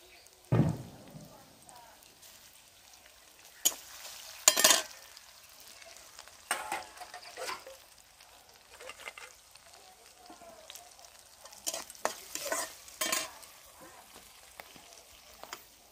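Panch phoron spices and crab brains hit hot oil in short, sharp bursts of spattering sizzle that fade between them, with a voice talking over the quieter stretches.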